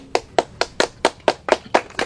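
People clap their hands in a steady, evenly spaced rhythm, nine sharp claps over about two seconds, fairly close and with no talking over them.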